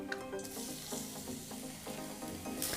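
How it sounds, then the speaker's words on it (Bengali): Chopped onion sizzles steadily in hot frying oil with a cinnamon stick and small cardamom for a pangas fish curry, a continuous close crackle with faint stirring. "এবার এর মধ্যে দিয়ে দিচ্ছি পেঁয়াজ কুচি।"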